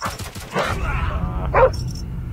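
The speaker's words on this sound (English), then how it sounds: "I'm gonna get a dog coming in here." A dog barking in a shooter video game, a few short sharp yips and barks over steady game background noise, moderately close, with no speech over it.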